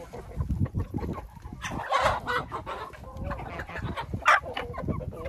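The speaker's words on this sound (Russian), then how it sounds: "И вот так вот с удовольствием кушают мои куры буряк." Several chickens cluck softly and intermittently nearby, with pecking and rustling sounds as they feed on raw beets.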